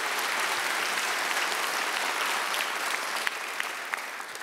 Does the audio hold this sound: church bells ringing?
no